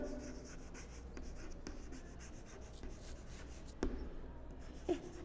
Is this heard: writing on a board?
yes